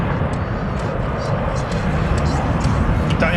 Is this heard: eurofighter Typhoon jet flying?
yes